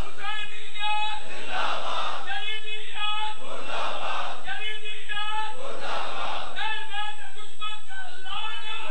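A congregation at a Shia majlis in Jang roars a slogan in unison, loud massed voices rising and falling in three or four big swells with pauses between them.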